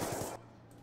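Rapid gunfire from the video game Black Ops 2 on the Nuketown 2025 map, a short burst of several quick shots that cuts off abruptly, faint in the mix with no talk.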